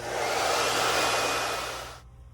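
Heat gun warming a BMW 3 Series headlight reflector: a loud steady blowing roar, close and alone, cutting off sharply near the end.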